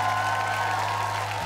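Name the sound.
audience applause at a TV show final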